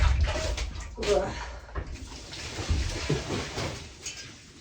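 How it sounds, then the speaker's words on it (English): A heavy bucket of water poured out a window, giving a short gushing splash followed by dribbling and spattering, with speech and a few knocks around it. "I'm just going to pour it out the window."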